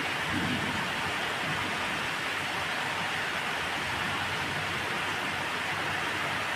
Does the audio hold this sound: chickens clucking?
no